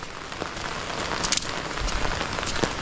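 Heavy rain pours down steadily over a bitter gourd farm, a dense, continuous patter with scattered sharper drop hits and no voices.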